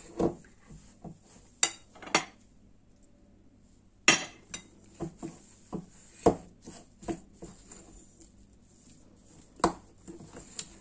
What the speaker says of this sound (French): كنديرها بالشوكه غير باش ما نعجنهاش بزاف